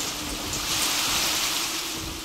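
Steady, dense hiss of heavy monsoon rain falling, a constant wash of noise without breaks or voices.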